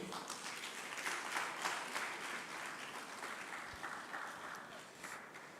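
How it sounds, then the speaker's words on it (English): Audience applause for a presenter at a Nigerian Content sensitization programme for law enforcement agencies, steady dense clapping from a seated crowd that carries on for several seconds at moderate, even loudness. "Please do better, clap for him."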